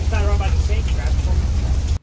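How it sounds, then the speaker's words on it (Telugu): Rain falls on an ocean fishing boat, a dense patter over a deep, constant engine-like rumble, with muffled voices briefly under it before it cuts off. "ఇంకా పనిలో పనిగా వర్షం కూడా మొదలైపోయింది."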